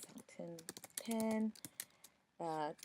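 Keys clatter in quick irregular bursts on a computer keyboard as words and commas are entered, close and moderately loud, broken by short stretches of voiced sound between the typing runs.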